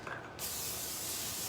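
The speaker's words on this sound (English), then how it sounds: "Then I am going to spray" A short burst of cooking oil spray hisses onto raw salmon before broiling, a close, steady airy spray following a brief quieter moment.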